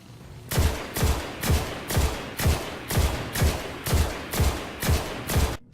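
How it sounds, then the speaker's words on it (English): Jade Rabbit weapon firing in a video game, about a dozen evenly spaced loud shots with booming low thumps, a steady rhythm of roughly two per second, no voices. "take a slight moment of silence to hear how this baby sounds firing"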